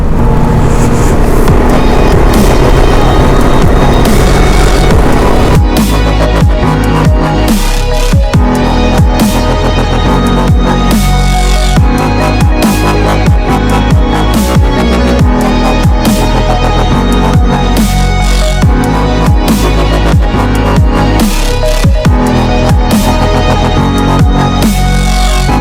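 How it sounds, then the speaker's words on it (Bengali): Motorbike riding on a snowy mountain road between Tawang and Bumla Pass, engine droning loudly and continuously with rumbling tyre and road noise, wind-buffeted and close, no talk. "পুরো চাকা স্কিড খাচ্ছে এদিক ওদিক মাঝে মধ্যে।"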